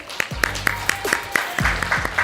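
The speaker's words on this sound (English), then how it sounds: "Could you give a big round of applause to them?" Applause at a film industry conference, with evenly spaced claps, mixed with a voice and some crowd noise underneath.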